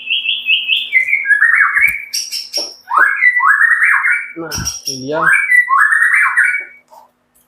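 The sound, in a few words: tame white-rumped shama (murai batu) singing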